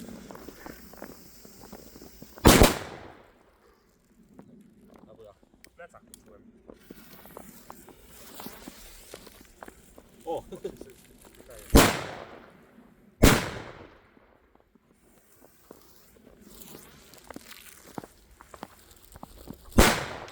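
New Year's Eve firecrackers exploding outdoors, with four sharp loud bangs spread out over a stretch of ambient noise, footsteps and scattered voices in between.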